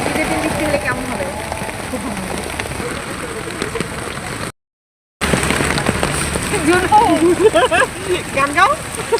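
Evening rain pours steadily around a rickshaw, a dense hiss of drops on surfaces that fills the whole scene and drops out briefly in the middle, with people talking over it.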